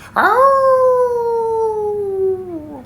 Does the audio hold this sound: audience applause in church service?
no